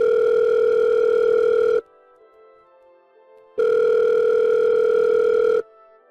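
Loud, steady telephone dial tone heard in two long bursts separated by a quieter gap, playing alone before a phone call is placed.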